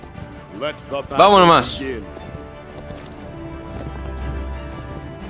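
Horses in the Paladins video game clop at a gallop, with a loud whinny near the start, then settle into a low rumble of hooves under someone speaking Spanish.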